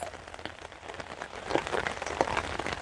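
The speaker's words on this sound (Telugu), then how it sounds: "అంబ్రెల్లా పట్టుకొని వచ్చినా అండి, ఫుల్ పడుతుంది వర్షం అయితే" Heavy rain falls on a terrace garden, a dense, steady patter on leaves and surfaces that grows slightly louder partway through, with no talking.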